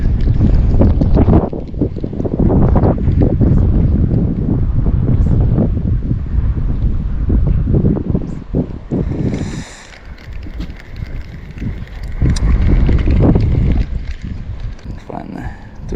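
Loud, gusty wind roars and buffets the microphone outdoors while fishing, with a brief lull midway before the rumbling gusts pick up again.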